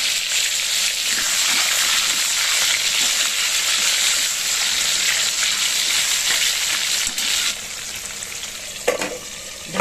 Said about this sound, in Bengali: এবার দেখুন, এদিকের কড়াইতে আমি পেঁপেগুলো ভেজে নিচ্ছি।